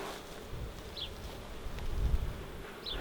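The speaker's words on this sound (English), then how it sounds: "they're the superest, friendliest bees ever" Bees buzz around a hive being moved into a new box, a soft continuous hum with occasional closer fly-bys, outdoors with light wind.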